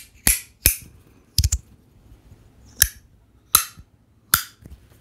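Sharp, loud plastic clicks snap out one at a time and in quick pairs, irregularly spaced over a quiet background.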